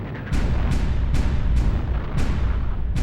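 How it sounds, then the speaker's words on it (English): Guns of the destroyer USS Laffey fire at sea, a steady series of loud booming shots roughly every half second over a continuous rumbling roar, with no voices. "the ships open fire"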